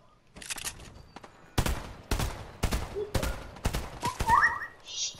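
Several loud bursts of rapid gunfire from the video game Fortnite crack one after another in a close, irregular volley, with scattered smaller impacts and effects between the shots.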